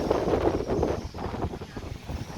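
Storm wind blows through Vientiane, Laos, buffeting the microphone in uneven, rumbling gusts that swell and ease over a couple of seconds. Faint voices may sit beneath the wind.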